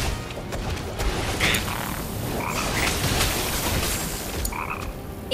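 A frog croaks in the Final Fantasy 7 Rebirth video game, several short croaks and chirps scattered over a dense, rumbling game soundscape, moderately loud, with no talk.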